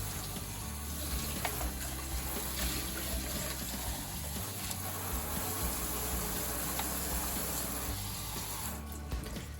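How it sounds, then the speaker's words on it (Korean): Running water pours steadily from a tap as a plastic cup is rinsed under it, a continuous splashing hiss that lasts throughout with no voices. "플라스틱 컵을 물에 깨끗이 씻어줄 거예요"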